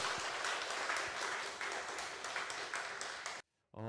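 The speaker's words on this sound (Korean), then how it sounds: "우리 하나님께 영광의 박수 올려드리겠습니다" Congregation at a Korean church revival evening service claps in a loud, sustained burst of applause that fills the hall, then cuts off abruptly into near silence before a voice begins.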